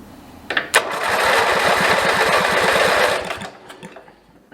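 A small engine on a project minibike is pull-started and turns over in a rapid chugging rhythm for a few seconds before stopping with a kick back, heard close and loud with no talking.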